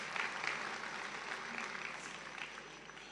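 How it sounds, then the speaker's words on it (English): An audience at the Africa Cup of Nations 2025 group stage draw applauds in a faint, even patter of clapping that stays steady for a few seconds. "Can we clap hands for him?"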